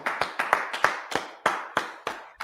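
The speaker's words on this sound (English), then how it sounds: "Clap it up, get a load of hand." Hand claps at a brotherhood class gathering: about nine sharp, separate claps in a loose, steady rhythm, close and fairly loud, with no talking over them.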